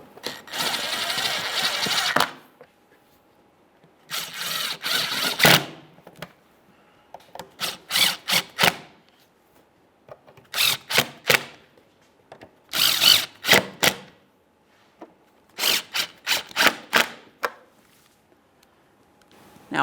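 A power tool runs in repeated short bursts while snugging up the headlight mounting bolts on a 2013-2020 Ford Fusion. A long whir comes first, then stuttering pulses with quiet gaps between them, close and loud.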